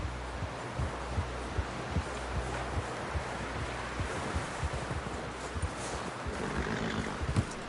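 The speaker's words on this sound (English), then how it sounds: "Someone help John down off this horse" A horse in the video game Red Dead Redemption 2 moves at a steady clip-clop with low snorts and breathing over a rustling outdoor background. The sound is moderately close and continuous, with no clear talking.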